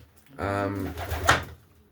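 Racing pigeons in a race loft give a short, soft cooing burst lasting about a second, close by and fairly quiet, with faint room background before and after.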